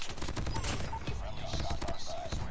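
Rapid automatic AK117 assault rifle fire in COD Mobile, a dense stream of quick shots over busy match noise, with brief electronic game tones mixed in.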